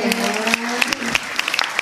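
Short burst of clapping from an audience at a comic show in Batuan, close and fairly loud, with a voice and sustained tones running underneath.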